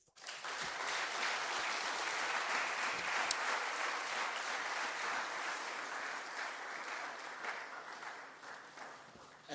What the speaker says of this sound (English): A round of applause for him again.